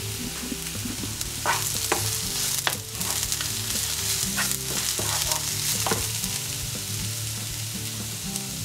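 Sliced mushrooms sizzle steadily in a pan with spring onion, a close, continuous frying hiss broken by scraping stirs and clacks of a utensil, with no voices.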